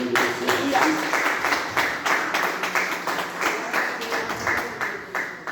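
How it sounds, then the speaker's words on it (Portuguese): A church congregation claps together during a service, a dense, rhythmic round of applause from many people that holds steady and gradually thins toward the end. "Vamos aplaudir forte o nome do Senhor."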